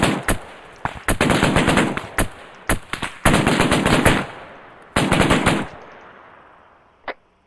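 Automatic weapon fire in the military video game Arma 3, several loud bursts of rapid shots separated by short pauses, trailing off with one last single report.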